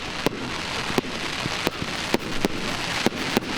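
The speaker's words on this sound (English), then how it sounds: "Hey, it's not too late for fireworks," Fireworks lighting up the sky over a high school football game at Garnet Valley: a series of sharp, distant bangs and pops at irregular intervals over steady crowd-like background noise.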